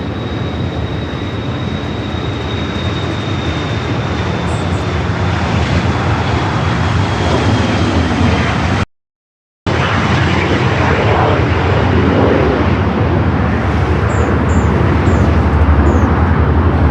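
A corporate jet takes off from runway 24 left at Los Angeles International Airport with a loud, continuous engine roar that broadens and builds. The roar is briefly cut out partway through.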